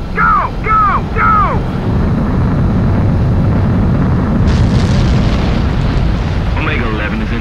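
A fighter jet takes off in Ace Combat 7: Skies Unknown, a loud broad roar that swells sharply partway through and keeps rumbling, with radio voices talking at the start and end.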